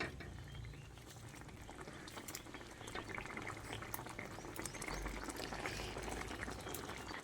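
Gravy with fried papad simmers in a pan, giving a faint, steady bubbling and soft popping that runs evenly throughout with no talk.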